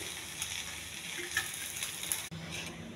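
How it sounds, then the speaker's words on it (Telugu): Ivy gourd pieces frying in hot oil, a constant moderate sizzle with occasional stirring clicks and crackles, no voices. "ఈ తాలింపు మొత్తం దొండకాయలు వేసేయాలండి"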